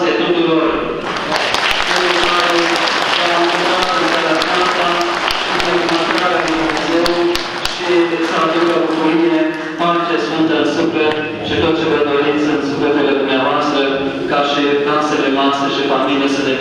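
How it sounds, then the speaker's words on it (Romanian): Applause from a church audience at a Christmas carol concert, sustained dense clapping filling the space for the whole stretch, loud and close, with tonal music or singing mixed in. "Aplauze tuturor!"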